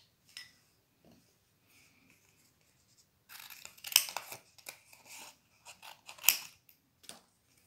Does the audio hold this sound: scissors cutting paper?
yes